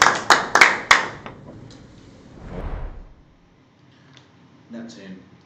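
Players at a Mafia World Cup finals game table give a short round of five or so crisp claps. A soft swish and faint shuffling follow in an otherwise quiet room.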